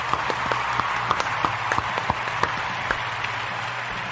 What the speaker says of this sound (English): Big round of applause to all of those guys too.